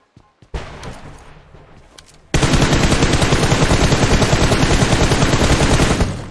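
Automatic gunfire in a PUBG Mobile match, with a few isolated shots followed by a loud, sustained rapid burst of fire that runs for several seconds and cuts off near the end.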